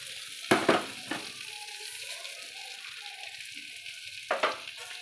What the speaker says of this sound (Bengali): অল্প কড়াই তেল দিয়ে একটু জিরে, তেজপাতা, শুকনো লঙ্কা ফোড়ন দিয়ে এগুলো একটু হলুদ গুঁড়ো নুন দিয়ে একটু নেড়ে নিচ্ছি